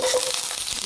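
Chopped onion for Arabian bukhari chicken rice hits a hot pan and sizzles loudly and steadily throughout, close and bright with no talking over it.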